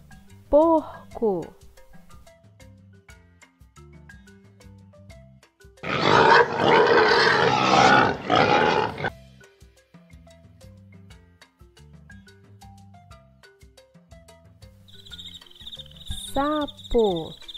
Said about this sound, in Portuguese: Porco.